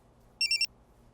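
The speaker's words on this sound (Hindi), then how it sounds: "अरे फोन किसका आ गया?" A phone rings with a short electronic trilling burst of three quick pulses, clear and fairly close, in an otherwise quiet room.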